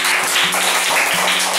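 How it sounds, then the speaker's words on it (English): A group clapping hands in a classroom, a few quick bursts of claps in an irregular rhythm, close and fairly loud. "Clap your hands."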